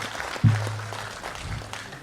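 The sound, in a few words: applause for the poet at a mushaira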